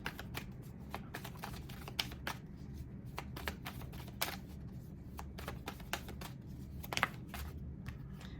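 Tarot cards shuffled by hand in a steady run of quick soft riffles and flicks, close and moderately quiet, with no talking.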